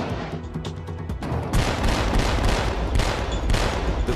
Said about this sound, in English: The crew has the starboard side gun dialed in.